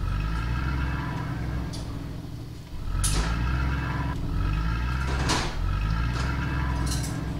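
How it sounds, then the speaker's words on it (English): Vehicle noises in the horror game Fear to Fathom: Ironbark Lookout, a steady low engine rumble with mechanical clunks and brief hissing bursts, close and continuous with no talking. "these car sounds are so annoying"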